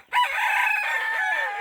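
A rooster crows once, loud and close, at a chicken pen, the call rising quickly and holding steady for over a second with no talk over it.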